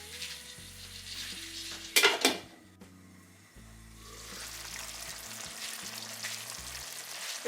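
Chicken ghee roast cooking in a pan, a quiet sizzle broken by a sharp metallic clatter of a lid or utensil, then a softer hiss returning with faint tonal hums and knocks.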